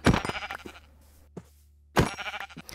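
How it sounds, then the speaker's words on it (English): Sheep in the Minecraft video game bleat twice, close and clear, with a short quiet gap and a faint blip between the calls. "I remembered that there happened to be some sheep nearby, and all I had to do was locate them."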